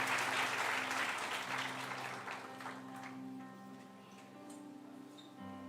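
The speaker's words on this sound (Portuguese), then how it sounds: "Dê mais uma salva de palmas para Jesus" Church congregation applauds during a baptism service, dense clapping that is loudest at first and gradually thins out, with a sustained low tone lingering beneath it.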